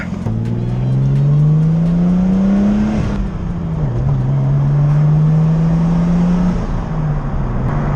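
A Nissan R32 engine pulls hard from the driver's seat after a throttle-cable fix, its loud, steady drone climbing in pitch, dropping at a gear change, then climbing again through a second gear before easing off.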